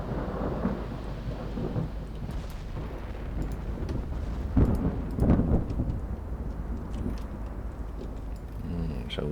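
Stormy sea in a naval warship strategy game, with a steady roar of rain and wind and deep thunder rumbles swelling midway, a voice talking faintly beneath.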